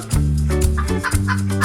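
A chicken clucks in quick, close, loud bursts that run together over a couple of seconds.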